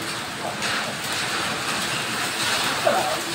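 A heavy evening hailstorm in Jajang pours down in a dense, steady roar, with gusty surges and no talking.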